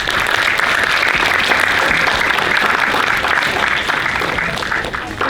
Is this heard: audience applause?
yes